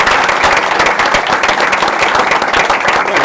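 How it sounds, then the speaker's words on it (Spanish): A studio audience applauds at the close of an Argentine talk show, dense loud clapping from many hands sustained evenly throughout with no break. "les pido un aplauso a todos ustedes"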